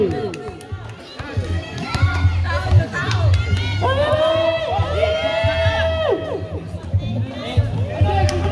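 A packed crowd cheers and shouts noisily at a junior/senior intercolor league basketball game in Palmera, rising and falling in excited waves, with children's yells and an announcer speaking over the din.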